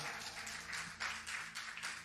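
Church congregation applauding together during a bilingual Spanish-English worship service, a soft, steady wash of many hands clapping at a distance with small swells in intensity.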